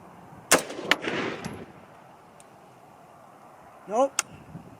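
Two sharp 6.5 Grendel rifle shots crack outdoors at a range, the first followed by a short rumbling tail and the second coming several seconds later, with a brief metallic click of the rifle's action before it.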